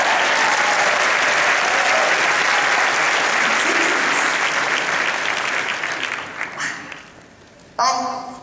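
Loud, dense applause from a large conference audience at SXSW Interactive 2010, sustained for several seconds, then tapering off, with a few lingering claps and a brief voice at the end.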